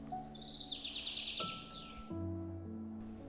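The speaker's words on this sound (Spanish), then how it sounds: "En el bosque a sus espaldas, un pájaro emitió un gorjeo." A bird chirps in a forest, a quick run of bright, rising twitters followed by a second clear call, set against a quiet woodland background.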